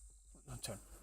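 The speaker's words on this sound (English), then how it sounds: "Can you hear the cicadas outside?" Cicadas drone outside an open window, a thin, faint, steady buzz that soon gives way to a brief murmur of a voice.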